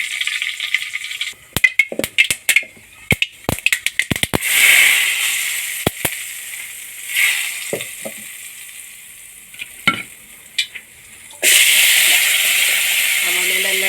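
Elephant yam pieces dropped into a hot mustard seed tempering sizzle loudly at close range, with sharp crackles and pops of seeds over a broad hiss that swells and then settles.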